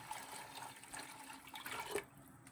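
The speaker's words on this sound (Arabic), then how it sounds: "انا غنخوي دابا هاد لي طرو ديال الماء ديالي" Water is poured into yogurt for a drinkable raib, a faint, quiet trickle and splash that builds briefly before stopping near the end.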